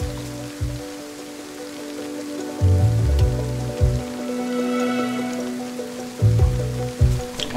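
Rain falls in the survival video game DayZ as a steady patter near a trader, with low rumbling tones that swell and fade underneath.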